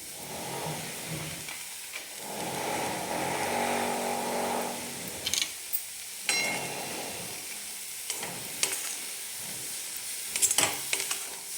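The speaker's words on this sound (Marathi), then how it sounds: "तर आपण आता हे भाजून घेणार आहे, छानपैकी एकदम भाजून घेऊ याला।" Chopped cabbage dry-roasts in an iron wok, a steady soft hiss and rustle broken by sharp scraping clacks of a spatula stirring against the metal, close and alone.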